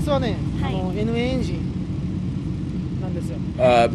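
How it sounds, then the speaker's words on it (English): Nissan S15 Silvia drift car with a turbocharged NA engine making just under 400 horsepower, a steady mid-pitched engine drone running continuously under someone talking. "This is an S15 Sylvia. It's drift specific."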